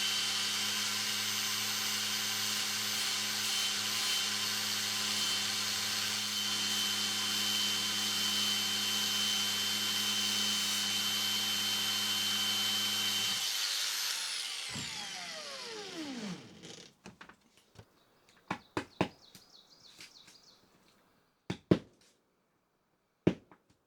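A metal pick being resharpened on a bench grinder: a loud, steady high-pitched whine with grinding hiss for about fourteen seconds, then the motor spins down with a falling tone, followed by a few sharp clinks and knocks.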